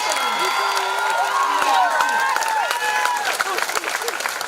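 Graduation ceremony audience applauding and cheering for a departing game design teacher, a dense sustained wash of clapping with shouts and whoops throughout.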